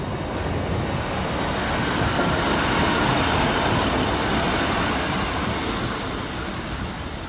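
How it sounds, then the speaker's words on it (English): A single-carriage train bound for Peterborough rumbles by with a steady, fairly loud broadband roar that swells slightly in the middle and eases toward the end, with no one talking. "Let's go single carriage to Peterborough?"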